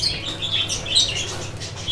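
Pet budgerigars chirp in quick, bright tweets alongside soft fluttering wingbeats, a steady close-up chatter with no voices.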